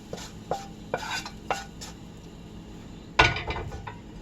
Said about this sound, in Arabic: بعد ما شحرت البصله غادي نزيدها هنايا على جنب حدا الفلفله